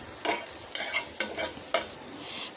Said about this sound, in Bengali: দিয়ে দিচ্ছি শুকনো মরিচ, দিয়ে দিচ্ছি পেঁয়াজ আর শুকনো মরিচটা আমি ভালো করে ভেজে নেব